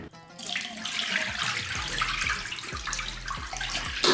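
Murky dirty water emptied from a Roborock S8 MaxV Ultra robot vacuum's container pours steadily into a sink, a close, continuous splashing gush lasting several seconds with no talk.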